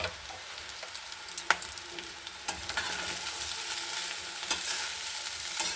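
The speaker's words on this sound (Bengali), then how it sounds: "হালকা হাতে আমি এবার নেড়ে দিচ্ছি।" Fried rice with fried vegetables and raisins is stirred gently in a pan, soft scraping strokes and light clicks over a continuous sizzle that grows denser toward the end, close and quiet with no talk.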